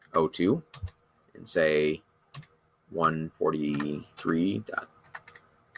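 A computer keyboard taps out numbers into an Excel spreadsheet in a few quick, light clicks, mostly buried under a person talking close by.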